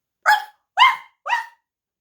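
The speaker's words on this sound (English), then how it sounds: "Sharp, loud barks exploded like machine gun fire." Three sharp, loud dog barks in quick succession, evenly spaced, close by with silence between them.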